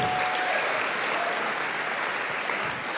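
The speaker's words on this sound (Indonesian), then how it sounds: "Mohon aplaus untuk Ibu Anissa" Steady applause from an audience honouring a woman named Ibu Anissa at a talk, continuous clapping filling the room at an even level for the full span, with no speech over it.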